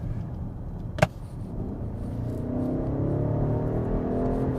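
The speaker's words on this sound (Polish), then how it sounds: "W trybie komfortowym, kiedy wciśniecie pedał gazu do końca, i ja to zaraz zrobię" A BMW X6 in comfort mode accelerates with the gas pedal floored, a single sharp click followed by a steadily building engine whir and rumble heard from inside the cabin.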